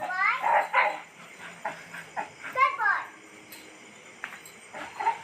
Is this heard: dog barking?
yes